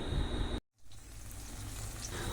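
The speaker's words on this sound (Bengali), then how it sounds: "তারপর দেব একটার অর্ধেক টমেটো দিয়ে একটু নাড়াচাড়া করতে থাকবো।" Chopped onion, half a tomato, whole cumin seeds and a dried chilli sizzle in hot oil in a pan as they are stirred. A steady frying hiss cuts out briefly near the start, then resumes, loud and close.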